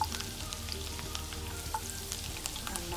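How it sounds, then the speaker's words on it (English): Chopped garlic sizzling in hot oil with curry leaves while being stirred, a steady close frying crackle with occasional spatula taps, for chicken majestic. "Add the chopped garlic and stir it till it becomes golden brown in color."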